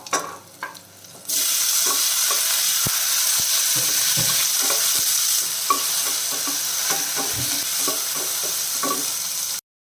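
Chopped tomatoes dropped into a pan of frying shallots, starting with a few clunks and then a loud steady sizzle with occasional stirring scrapes and taps close by.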